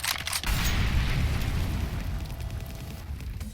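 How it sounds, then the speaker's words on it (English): A Molotov cocktail bursts into fire in Counter-Strike: Global Offensive, a loud whooshing ignition followed by a sustained roaring crackle of flames that slowly fades, heard alone without talk. "the Molotov should land right into the sandbags area. Throwing fire."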